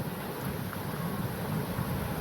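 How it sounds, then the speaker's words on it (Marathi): Usgaon waterfall near Virar, a steady broadband rush of falling water with wind buffeting the microphone, continuous and fairly close, no voices. "तोच हा धबधबा."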